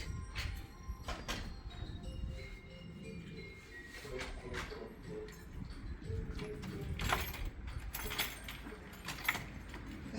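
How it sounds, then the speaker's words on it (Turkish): Someone works at a locked door, jangling keys and rattling and clicking the handle in irregular bursts, with faint background voices and laughter. "kapıyı açmaya çalışıyor"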